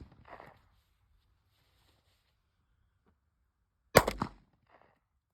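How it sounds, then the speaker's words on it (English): Two gunshots from a .45 caliber handgun at an outdoor range: a softer, more distant crack early on and a loud, sharp close report near the end, with silence between and a faint trailing click. "You're gonna hear that's a big gun with a big recoil."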